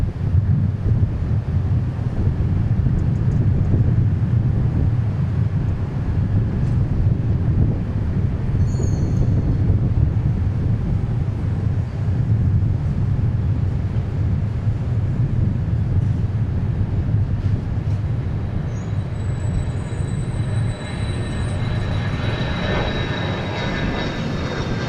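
A Cessna Citation 650 business jet roars at Dallas Love Field, a loud sustained engine rumble with wind buffeting the microphone and a rising whine near the end.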